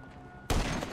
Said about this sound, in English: I'm going to try and take him down using the sniper rifle.